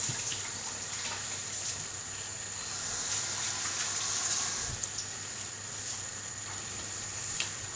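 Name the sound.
washing hands under running tap water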